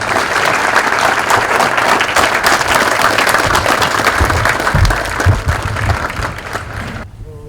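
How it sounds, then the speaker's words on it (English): A graduation-ceremony audience for the 6th Regiment Advanced Camp gives its awardees a loud, sustained round of applause, dense steady clapping from many hands filling the hall for about seven seconds before cutting off. "please join me in giving our awardees a round of applause"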